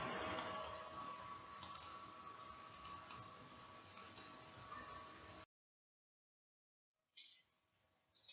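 A computer mouse clicks several times in quiet, sharp, irregular pairs and singles over faint background hum, followed by near silence.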